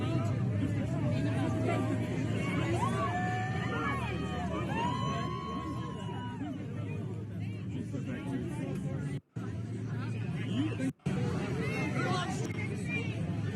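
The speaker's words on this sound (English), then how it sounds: "look at the crowd of people. I mean, it's like a sea of people there, of supporters" Dense crowd of supporters at the Iowa State Fair, a steady outdoor hubbub of many voices chattering and calling, with occasional brief dropouts.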